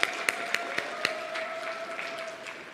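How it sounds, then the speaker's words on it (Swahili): An audience at a formal meeting applauds President Samia Suluhu Hassan, a sustained wash of clapping with a few sharp individual claps standing out early, moderately distant and even throughout. "Piga makofi mengi tafadhali."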